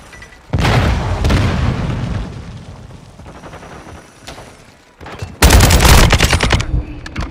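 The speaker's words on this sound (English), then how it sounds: "Taking effective fire!" Bursts of automatic gunfire and booming shots in the video game Call of Duty: Modern Warfare II, loud and close, with a sustained volley, a quieter lull, then another heavy burst near the end.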